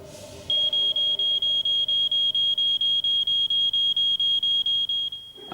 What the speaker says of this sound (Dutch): dankzij onze rookmachine en ons vals alarm